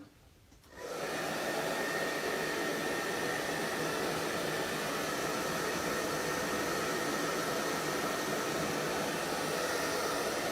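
A hair dryer switches on after a short quiet moment and then blows steadily, a loud, even whoosh of air with no break, used to dry a craft transfer.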